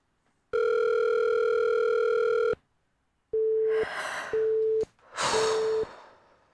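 Telephone call tone on an unanswered call: a long steady tone, then a few shorter repeating beeps with breathy sighing noise between them, close and fairly loud.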